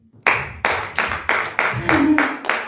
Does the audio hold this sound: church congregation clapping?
yes